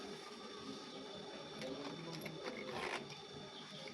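A sewing machine top stitches along a zipper pouch (a padded multi-zipper men's cross bag), running as a steady, close mechanical whir with rapid stitching texture throughout, briefly louder in the middle.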